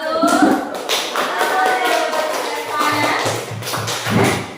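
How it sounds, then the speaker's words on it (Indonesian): A group claps steadily for several seconds, a dense patter of hands with some voices murmuring underneath. "Tepuk tangan dulu kelompok 1"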